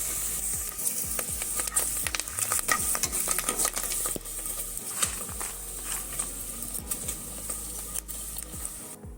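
Small colourful kachri fry in hot oil with a steady close sizzle and bubbling, while a utensil stirs and clinks against the pan now and then.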